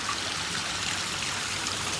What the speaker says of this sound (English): So we've now turned the waterfall back on